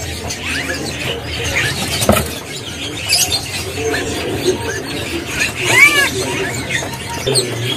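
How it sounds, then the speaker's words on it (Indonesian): Ciung wanara birds at a bird market kiosk, with squealing chirps and short whistled calls over busy market background noise. "dari burung ciung wanara ini"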